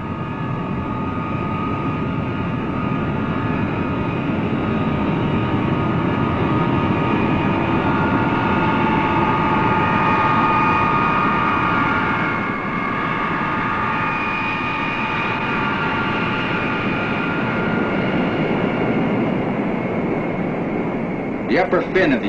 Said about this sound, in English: The B-52 pilot taxis to the takeoff runway.